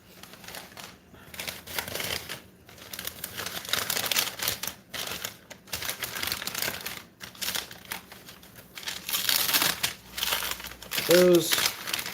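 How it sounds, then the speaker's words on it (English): Crinkly rustling of plastic and paper as a delicate package is opened near the mic, in uneven bursts with brief pauses, with a voice speaking at times. "Those rustling about at home are hearing me rustle about. I'm opening a very delicate package."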